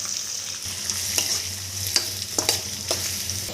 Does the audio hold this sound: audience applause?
no